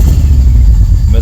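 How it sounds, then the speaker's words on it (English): A Ford XR5 4x4 turbo car engine misfires on a first start attempt, a loud, close, uneven low rumble with irregular lumpy pulses. "See how it's misfiring like that?"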